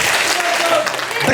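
A crowd claps steadily at a festive celebration feast, a dense, continuous wash of hands close by and loud, with voices mixed into the applause.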